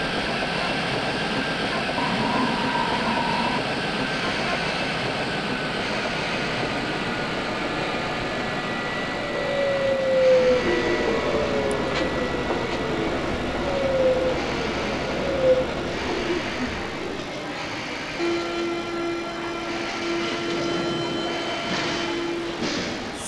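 Berlin subway train of class H97 in the MSTS train simulator, rolling steadily with a continuous low rumble and hum, occasional squealing tones and rising motor whines, fairly loud and alone without talk.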